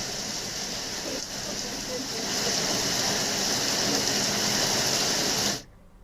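Monsoon rain falls steadily as a dense, loud hiss that swells after a couple of seconds and holds. It cuts off abruptly near the end, leaving quiet.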